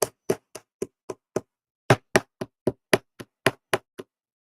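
A hammer knocks sharply in two bursts of rhythmic blows, six strikes then a pause and nine more, loud and close, while making a fall bow.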